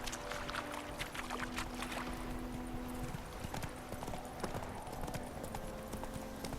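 Roach, Geralt's horse in The Witcher 3, gallops with a continuous rapid clip-clop of hooves under a dense game soundscape, steady and fairly close throughout.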